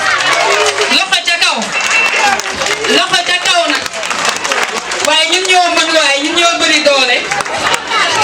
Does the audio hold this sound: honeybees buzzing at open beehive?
no